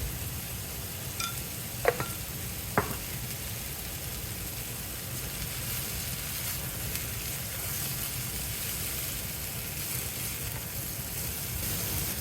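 Pumpkin fry in a pan on medium flame gives a soft, steady sizzle, with two brief clinks of stirring early on and no one talking.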